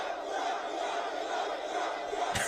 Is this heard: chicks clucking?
no